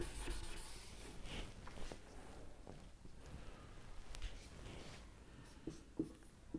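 Marker or chalk scratching on a classroom board while an example is written, a soft continuous rubbing with short strokes and a couple of taps; fairly quiet and close, no talking.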